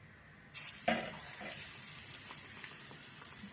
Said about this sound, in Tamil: ஒன்று ஒன்றா தொட்டு தொட்டு இப்படி எடுத்து எண்ணெயில் போட்டுடலாம்.